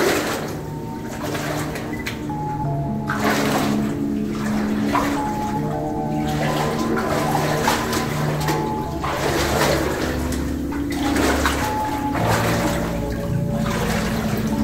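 Clear water flowing and trickling through an old mine tunnel with wooden rail tracks, a steady close wash of running water with some tonal hum underneath.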